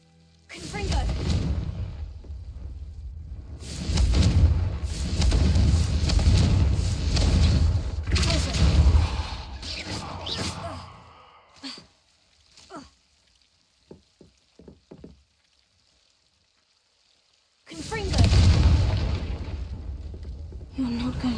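A Confringo blasting spell goes off in a wizarding video game. It gives a long run of loud, booming bursts, then a few sharp scattered pops over a quieter stretch, and a final heavy blast.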